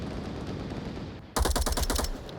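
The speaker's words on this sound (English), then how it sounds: "Jester finishing off Mad Phoenix with gunshots." Rapid automatic gunfire in the VR shooter game Onward during a competitive match, a loud close burst of sharp repeated shots cutting in after a low rumbling background.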